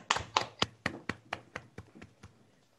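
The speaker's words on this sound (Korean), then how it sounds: "박수 한번 할까요?" Roughly a dozen evenly spaced hand claps at the close of a Korean parenting-education lecture, starting fairly crisp and close, then fading quickly until the last few are faint.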